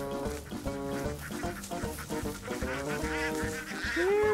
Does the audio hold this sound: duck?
yes